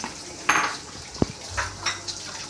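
Kalabasa squash pieces drop into a pot of boiling water for a vegetable soup, with a soft splash, a sharp clink of utensil on pot and faint bubbling, close and brief; no speech.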